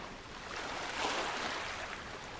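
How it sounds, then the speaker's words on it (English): Water sloshes and splashes in the video game The Witch of Fern Island, a continuous washing surge like waves on a shore that swells briefly in the middle, with no talking. "Oh, it's water."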